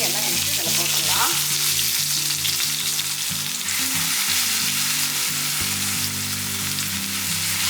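Ground lady finger chutney hitting a sizzling mustard-seed and curry-leaf tempering, a loud, steady, close frying hiss with occasional stirring scrapes, over a low background of music.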